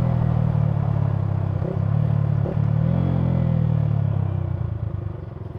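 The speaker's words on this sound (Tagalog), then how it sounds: "Hindi ko alam kung goods na shifting na rev matching na yun" A Yamaha Sniper 155R motorcycle engine running loud and close with a steady low rumble, one or two brief dips and blips of throttle as it changes gear with rev matching, then easing off slightly at the end.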